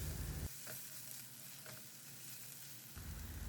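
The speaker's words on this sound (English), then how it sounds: "We'll keep the flame on medium and keep on stirring them in between until they turn" Onions and tomatoes cooking in a pan over a medium flame while being stirred, with a steady close sizzle and light scraping strokes, no voices.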